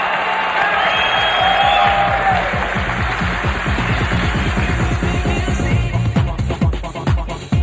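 A loud arena crowd at a pro judo match roars and cheers continuously, then breaks into fast rhythmic clapping in unison, with a voice faintly heard beneath the noise.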